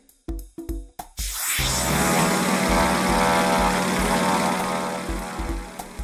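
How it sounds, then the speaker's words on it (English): A propeller airplane runs up loud and steady after a few short sharp knocks, its engine drone filling the space alone with no talking. "The airplane."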